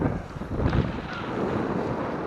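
Steady wind rushes past a sailboat under sail on Lake Erie, a broad continuous roar with microphone buffeting and no voices.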